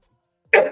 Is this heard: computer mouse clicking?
no